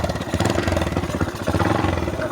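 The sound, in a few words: motorcycle engine sputtering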